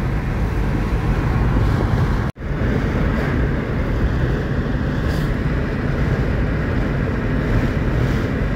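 A strong gust of wind roars across the microphone in rural Alagoinha, a loud, continuous buffeting rumble with one abrupt momentary cut, and no voices.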